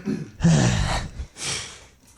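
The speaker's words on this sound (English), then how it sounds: "You're just gonna get a lot of me like breathing heavily." Heavy, audible breaths come in two strong bursts, close to the microphone, from someone kneading homemade pasta dough in a kitchen.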